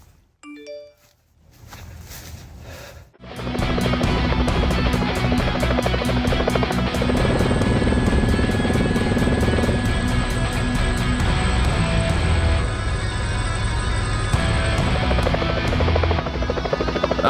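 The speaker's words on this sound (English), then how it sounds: "I bet you've never thought of using a helicopter to open beer bottles." A helicopter's rotor and engine roar loud and steady after a brief quieter start, with a continuous broadband drone and a rhythmic rotor pulse throughout, as the aircraft is used to open beer bottles.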